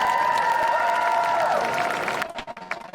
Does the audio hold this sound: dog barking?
no